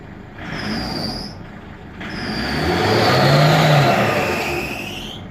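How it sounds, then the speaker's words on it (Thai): A 2005 Isuzu D-Max engine runs and is revved twice, the rising and falling roar swelling close by, the second rev longer and louder, with no one talking over it. "โอเคติดปกติเลยครับ ติดปกติเลยนี่แล้วก็เร่งรอบได้"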